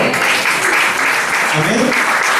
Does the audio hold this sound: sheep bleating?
no